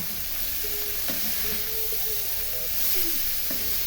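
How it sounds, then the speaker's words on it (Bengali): Cabbage tossed into a hot pan with turmeric and spices gives a steady, moderate sizzle of frying, with occasional stirring scrapes and clinks over the continuous hiss. "এখন কপিগুলো দিয়ে দিচ্ছি"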